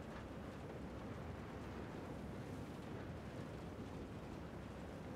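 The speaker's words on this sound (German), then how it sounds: "du hörst nichts, nur den Wind" Steady, loud wind rushes past while flying a glider in Ghost Recon Wildlands, a continuous broadband roar with no breaks and no other sounds.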